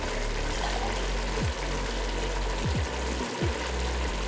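Water pours steadily into a pot of rice, potatoes and peas for pulao, a continuous close splashing wash with a few soft knocks and clinks, no talking.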